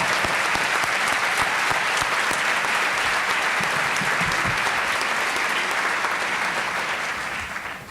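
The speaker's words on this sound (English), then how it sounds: "So if we can give them a round of applause" At a 2018 convocation ceremony, the audience gives a steady, dense round of applause that holds at an even level and fades slightly at the end.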